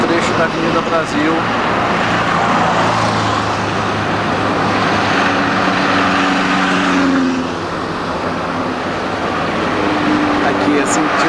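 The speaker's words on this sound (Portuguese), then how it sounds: "E aqui um trecho da Avenida Brasil." Steady roadway traffic on Avenida Brasil in Rio de Janeiro, a continuous loud rush of passing cars, buses and trucks with a dense broadband roar and occasional engine drones, with speech mixed in.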